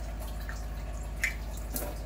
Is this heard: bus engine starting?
no